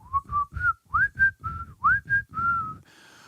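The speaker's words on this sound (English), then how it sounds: "spraying the plants, whistling to them" A person whistles a lively tune to houseplants while spraying them, a clear close melody of rising and gliding notes in short phrases, ending on one held tone.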